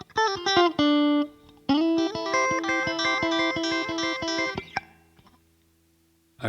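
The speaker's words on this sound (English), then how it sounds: "the next part of the solo sounds like this" Electric guitar playing a passage from a song's solo: a few quick percussive muted strums, a held bent note, then a fast run of clean picked notes before the sound cuts off and rings out to near silence.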